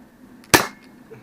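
A single sharp pop from a Sharpfire foam dart blaster, tuned down to shoot in the 150s. It is close and loud, with a quick decay and no talking.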